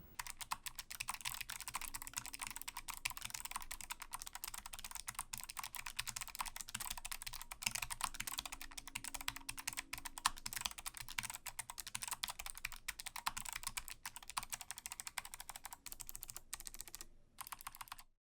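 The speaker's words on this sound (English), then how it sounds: "Now I got my keyboard in the GL clicky switches, so just so you guys can hear, here is a quick sound test." Rapid, steady clacking of a Logitech G915 Lightspeed keyboard with GL clicky mechanical switches, typed continuously and close up, with no talking, ending abruptly.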